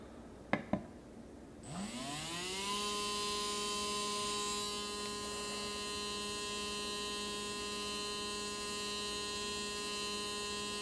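An electric RC motor on a SkyRC GForce motor analyzer dyno starts after two sharp clicks. Its whine sweeps up quickly, then holds a loud, steady, tonal hum near the mic with no talking.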